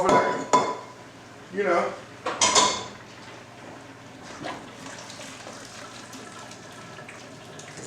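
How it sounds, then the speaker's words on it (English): A pound of cooked pasta drained in a kitchen for tuna casserole, with a few short bursts of pouring water and clattering pot and colander close by, followed by quieter rattles; a voice speaks briefly. "Strain that water off of"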